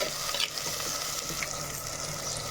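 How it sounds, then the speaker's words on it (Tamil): Tomatoes and onion sauté in a clay pot, a steady close sizzle with light stirring scrapes throughout, alone with no talk. "தக்காளி நல்லா மசிஞ்சு வர வரைக்கும் வதங்கிட்டோம்"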